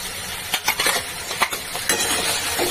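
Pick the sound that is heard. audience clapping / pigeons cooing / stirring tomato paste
stirring tomato paste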